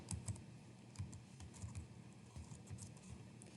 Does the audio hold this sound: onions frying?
no